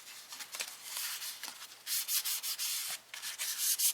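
Steady rhythmic scratchy dry sanding of primer on a 1:25 scale 1966 Oldsmobile 442 model car body, close up, in short repeated strokes with brief pauses.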